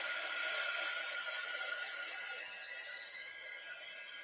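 A hair dryer drying paint on an art block blows continuously with a steady, bright whirring hiss, close and fairly loud, easing slightly in volume toward the end.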